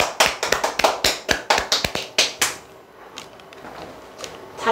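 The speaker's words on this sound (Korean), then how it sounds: "박수 한번 치시죠." A small group claps in a loose burst of sharp, uneven hand slaps during a Korean call-center sales seminar, strongest at first and then fading into a quiet room with scattered stray claps.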